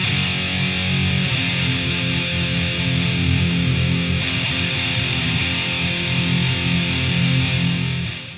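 An electric guitar played through a DemonFX BE-ODX overdrive pedal with the gain turned up gives a thick, sustained, heavily distorted tone with audible hiss, loud and unbroken throughout.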